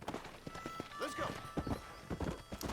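Hollow clip-clop hoofbeats of a horse in the video game Red Dead Redemption patter along with a horse's whinny, while a voice talks over them at low volume.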